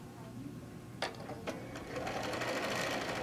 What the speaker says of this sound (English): you're going to stitch a couple stitches before and then after the seam